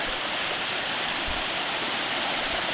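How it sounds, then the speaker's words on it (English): Stream water rushes at a river crossing on a hike up Mt Abraham in Maine, a loud, steady broadband flow that fills the whole stretch with no voices. "We've come to our first river crossing of the hike up Abraham."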